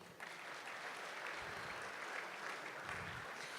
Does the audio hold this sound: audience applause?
yes